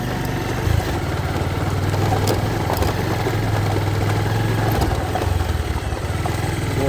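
Bajaj Pulsar motorcycle engine running steadily on a mountain village road, a loud continuous low drone with constant vibration throughout and no talking.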